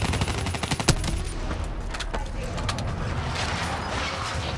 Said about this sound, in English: Give me some cover fire.